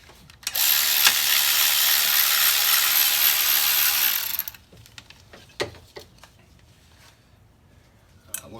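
A ratcheting wrench backs out a 13 mm bolt holding a bracket on a Ford Focus, a steady close clicking run for about four seconds, then a few scattered metallic taps and clinks.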